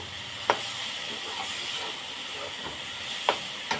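Dhenki greens fry in a pan with a steady, bright sizzling hiss and a few brief clicks of stirring scattered through.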